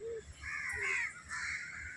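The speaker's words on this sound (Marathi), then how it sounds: "सगळ्या कावळ्यांना आंघोळ करायची" Crows caw faintly in a garden while bathing, two or three harsh calls in quick succession against quiet background.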